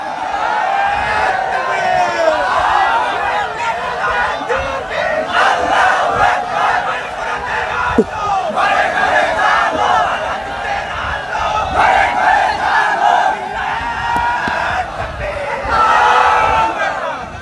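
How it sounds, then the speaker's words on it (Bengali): A large crowd at a Bangla religious sermon gathering in Kushtia roars a takbir chant in unison, loud and sustained, with repeated surging waves of shouting voices filling the space. "তাকবীর দেন, জোরে বলেন, লিল্লাহি তাকবীর বলেন"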